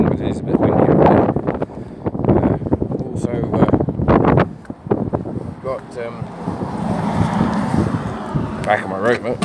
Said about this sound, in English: Sorry about the wind, but it is a bit windy over there.